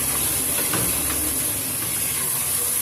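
Chicken pieces hit a hot pan of onion and spices in a home kitchen, giving a steady close hiss of sizzling throughout with no talk over it.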